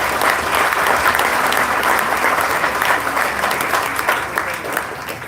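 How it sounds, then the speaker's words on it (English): Lively applause from the audience at a ceremony for the restored Prado Bicentennial Mural, a dense patter of many hands clapping together that holds steady and then eases slightly, with faint voices underneath. "Now we can applaud"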